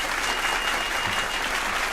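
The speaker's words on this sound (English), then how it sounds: "let's have a round of applause for Stu." A steady round of applause from a small audience at a birthday celebration aboard a charter railtour, dense continuous clapping filling the whole moment without talk.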